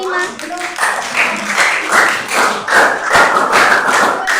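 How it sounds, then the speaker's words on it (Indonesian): An audience of students claps for a presenting group in a classroom, a close, uneven patter of hand claps with scattered thumps and voices mixed in. "Tepuk tangan untuk kelompok 5"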